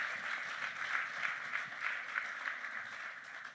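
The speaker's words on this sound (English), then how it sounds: "A round of applause." A small audience claps at a business launch event, a short, fairly faint burst of applause that holds steady and then tapers off.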